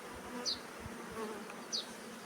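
Honey bees in a swarm hum in a steady, continuous drone, with a couple of brief higher buzzes as individual bees pass close by.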